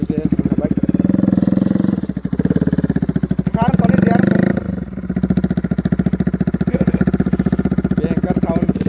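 A motorcycle fitted with a cheap aftermarket exhaust idles loudly and close, with a rapid, throbbing, popping beat and a brief rev near the middle, with voices faintly underneath.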